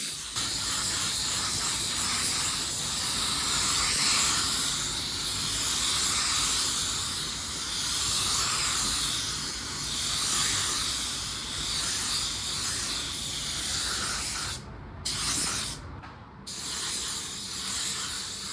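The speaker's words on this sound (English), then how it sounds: "let's throw our second wet coat" A spray gun lays a second wet coat of automotive paint, a loud, steady close hiss that runs almost unbroken and then cuts out in two short gaps near the end.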